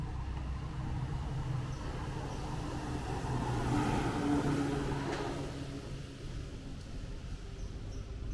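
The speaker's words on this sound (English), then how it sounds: "Got this big cement truck coming over." A big cement truck drives past on a Brooklyn street at dawn, a broad steady rumble of engine and road noise that swells toward the middle and then eases off as it passes.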